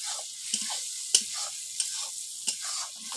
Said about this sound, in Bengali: ভালো করে কষতে হবে যাতে গন্ধটা না থাকে